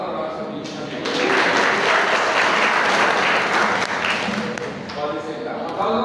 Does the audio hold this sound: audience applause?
yes